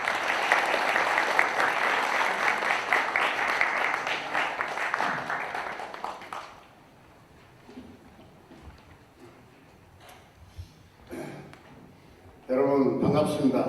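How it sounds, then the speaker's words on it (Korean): An audience at a Naju civic education gathering applauds to welcome the Hongik Hakwon foundation chairman, steady full clapping for about six seconds before it fades into quiet room noise, with a voice starting near the end. "한상원 이사장님을 박수로 모시겠습니다."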